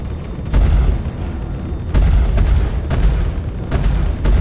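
Heavy ballistic cannon fire from a Tarantula gun in the space game Star Citizen: a series of deep, booming shots in uneven bursts, with loud low rumble filling the gaps between them.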